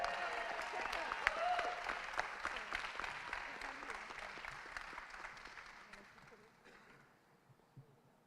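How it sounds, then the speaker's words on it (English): A gala audience at the Wendell Scott Foundation Legacy Gala applauds an award recipient, a dense burst of clapping that starts loud and gradually fades into quiet. "Give her a round of applause."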